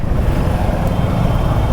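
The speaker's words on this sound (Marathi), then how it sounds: "खूप बाबा धक्का देऊन टायर खेचून त्याच्यानंतर गाडी चालू झाली" A Suzuki Gixxer motorcycle with a self-start fault fires up after being push-started, giving a close, steady low engine rumble for the whole short stretch.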